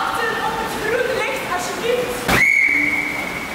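A single shrill lifeguard whistle blast at a waterpark cuts in near the end, holding a steady high tone for about a second over a background of people talking.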